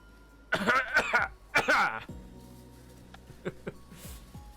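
A voice imitates throat clearing with two rough, raspy coughs close to the mic, followed by quieter fading noise.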